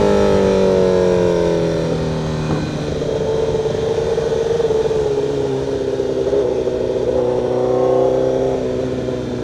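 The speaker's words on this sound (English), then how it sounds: "I really hope you guys can hear me while I talk over this exhaust" A loud car exhaust drones while driving, with a steady low engine tone and harmonics rising and falling as the car accelerates and eases off, close and continuous, no talk.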